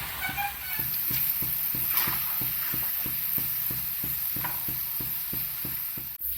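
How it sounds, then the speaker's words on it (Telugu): Okra (ladies finger) mixture frying in well-heated oil for a crispy bendakaya fry: a steady, close sizzle and hiss throughout, with a faint regular ticking pulse underneath and no talk. "ఇప్పుడు ఈ మిక్స్చర్ని ఆయిల్లో వేసుకోవాలి."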